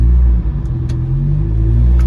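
A car rumbles along a road with a loud, steady, low engine drone from inside the cabin, continuous throughout with no talking.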